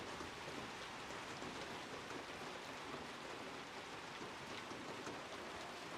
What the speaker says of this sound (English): This rain is nice because then it sounds nice and they harder for them to hear footsteps.